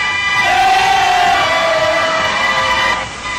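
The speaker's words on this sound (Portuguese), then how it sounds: "A charanga também começou cedo e antes do jogo tentou conquistar alguns novos torcedores." Flamengo supporters' charanga band and fans chant in a stadium in Japan before the 1981 world club final, a loud, dense and sustained wall of crowd voices with brassy held tones.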